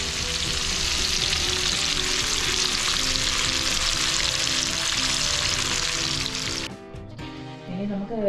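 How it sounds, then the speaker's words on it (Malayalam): Pieces of fish fry in hot oil for a homemade shawarma, giving a close, steady sizzle and crackle that cuts off abruptly near the end, leaving a few quieter clinks and rustles. "മീൻ വറക്കാൻ പോവാം."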